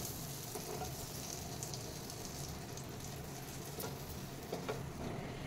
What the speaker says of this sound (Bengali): বাটারটা মেল্ট হয়ে গেছে। এবার আমি ব্রেডগুলো ভেজে নেব।